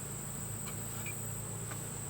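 Honey bees buzz around an open beehive while a honey super is being added, a faint, steady hum with a few brief sharper passes close by and no talking.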